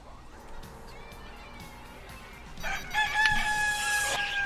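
A chicken crows and clucks as a sound effect in the Data East LaserDisc game Road Blaster, a loud, tonal call rising over busy game audio near the end.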